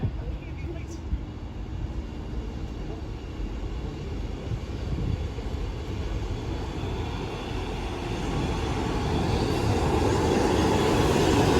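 A double Class 158 diesel train pulls into Widnes station, a low rumbling drone that swells steadily as it draws closer and ends loud and near.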